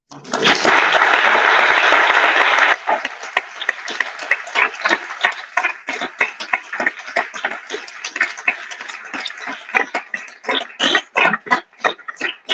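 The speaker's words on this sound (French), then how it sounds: "je pense qu'on peut l'applaudir à nouveau, non?" Audience applause after a lecture by a physicist, opening as a thick burst of clapping that thins into scattered, uneven individual claps over the following seconds.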